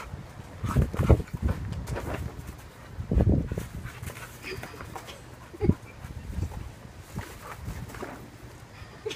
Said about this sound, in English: Such good dogs. Such good dogs.